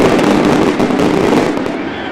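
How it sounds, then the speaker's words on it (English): Fireworks crackle and pop in a dense, loud burst of bangs at a high school football field, continuous over a couple of seconds with a booming low rumble. "Hear the fireworks for sure."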